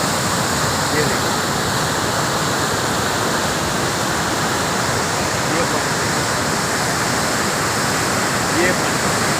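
Water rushing through the gates of the Head Marala barrage, a loud, unbroken roar of churning flow that stays constant for nearly ten seconds, with people talking faintly beneath it.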